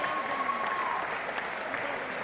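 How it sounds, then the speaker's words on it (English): A crowd applauds boxer Goran Danilovic after a close boxing match, a soft, steady patter of distant clapping lasting a couple of seconds with faint voices beneath. "Give Goran Danilovic a big round of applause"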